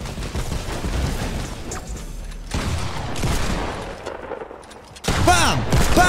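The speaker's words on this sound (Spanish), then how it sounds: "que me han disparado ellos" Bursts of rapid gunfire in the video game Fortnite, loud and close, with dense volleys that break off and start again and a sharp new burst near the end.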